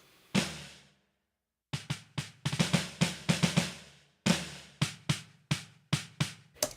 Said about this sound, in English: It's the snare wires.